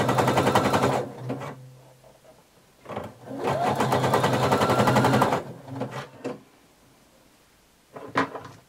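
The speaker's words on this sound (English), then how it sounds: "You're going to stitch using a wide zigzag stitch all the way around." A household sewing machine runs a wide zigzag stitch around the edge of swimsuit fabric in two loud, rapid bursts, each a second or two long, followed by a few short clicks and handling noises.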